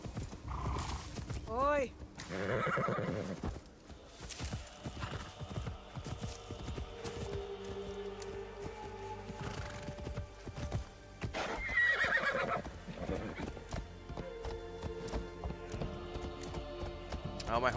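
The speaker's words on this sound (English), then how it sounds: "Oh, my horse does not want to go this way." A horse in the Assassin's Creed Shadows video game clip-clops along and whinnies, its hooves thudding steadily through a busy game soundscape while someone talks and shouts over it.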